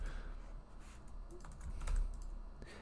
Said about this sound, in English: now I can type in gibberish